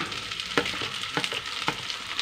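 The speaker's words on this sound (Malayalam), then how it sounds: "എല്ലാവരെയും കൂടി ഇട്ട് നമുക്കൊന്ന് ഇളക്കിയെടുക്കാം" Clam meat fries with ginger, green chilli, tomato and curry leaves in a hot pan, a steady sizzle broken by three soft scraping stirs at even intervals, close and alone with no voices.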